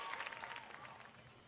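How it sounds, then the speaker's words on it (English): Live show audience applauding, a dense steady patter of clapping at moderate distance that slowly eases off, with no talk over it. "Why do people still cheering?"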